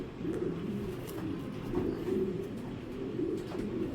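A racing pigeon hen, long-winged and China-tagged, coos in a low, steady murmur that runs for a few seconds close by, with soft repeated throaty pulses.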